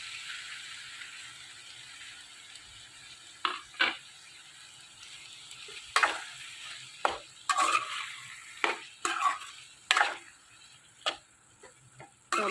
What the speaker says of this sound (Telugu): టమాటా ముక్కలు వేద్దాం.